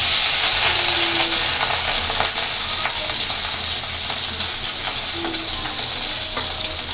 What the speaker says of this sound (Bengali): এখন মাছটা ভাইজা নিই